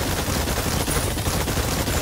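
Rapid, dense gunfire at distant targets in the video game Exoprimal, a continuous loud burst of overlapping shots with no pauses.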